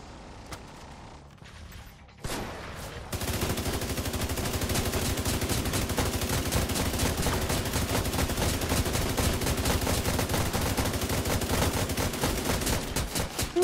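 Sustained rapid automatic gunfire from The Division 2 raid combat, a dense unbroken stream of loud shots after a brief quieter lead-in with a few scattered bursts, with no talk over it.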